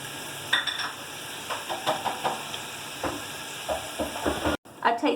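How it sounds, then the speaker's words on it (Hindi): Garlic and ginger paste with whole spices sizzle in a pan while a utensil stirs them in repeated scraping strokes over a steady hiss, and the sound drops out briefly near the end. "1 टेबल स्पून ही अदरक पेस्ट ऐड कर दूँगी और इसे अच्छी तरीके से मिक्स करेंगे।"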